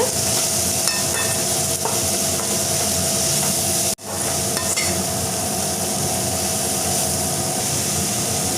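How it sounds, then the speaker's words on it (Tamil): Broad beans for avarakkai poriyal sizzle and hiss steadily in a pan as they are stirred, with scraping clicks throughout and a brief break midway, close up and with no one talking. "நல்லா கலந்து விட்டுடலாங்க"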